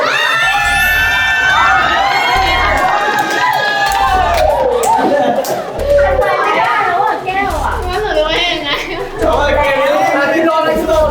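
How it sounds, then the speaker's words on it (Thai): Children cheering and shouting loudly during a cup-stacking game in a short film, a dense excited crowd of young voices close by with a steady thumping beat underneath. "เชียร์เราเชียร์เชียร์หน่อยเชียร์หน่อย"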